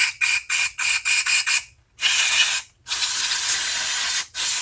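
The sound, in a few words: spraying carburetor cleaner into lawn mower idle jet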